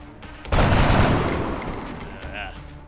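Gunfire in the turn-based strategy game XCOM: Enemy Unknown, a loud burst of automatic fire erupting suddenly and rolling into a dense, sustained clatter that slowly tapers off, with faint game effects trailing behind.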